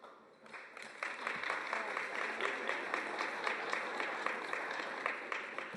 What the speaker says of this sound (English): Hold that applause.